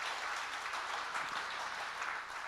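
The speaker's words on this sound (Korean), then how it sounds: "그래서 이런 분들에게 우리 한번 박수 한번 하십시다." Church audience at a ministry fair breaks into steady, dense applause, many hands clapping together at close range with no talking.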